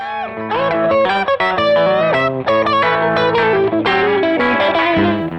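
Electric guitar fitted with Hot Chicken pickups plays a clean, compressed country line with bright twangy notes and quick bends, loud and continuous with a touch of chorus and effects, no talking.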